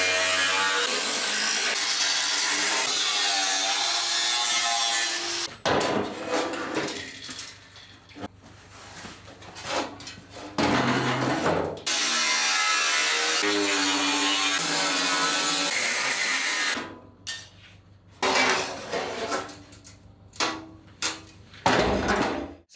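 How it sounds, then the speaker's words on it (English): A power tool cuts out rusted metal sections of a vehicle cab, a loud, harsh, continuous cutting roar in long stretches broken by brief pauses and shorter bursts, close and unrelenting. "I'm going to cut out all these bits"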